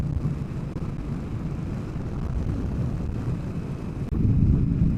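Indian Scout Bobber motorcycle (2021) cruising at about 65 mph and 3,500 RPM, a steady low engine drone blended with heavy wind rush, fairly subdued, swelling slightly louder near the end.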